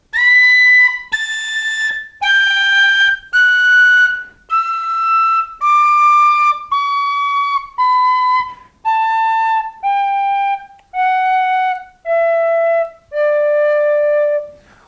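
A tin whistle plays a descending scale in the high octave, in traditional Irish style. It sounds fourteen clear, separate held notes in a slow, even rhythm, close and alone with no talk.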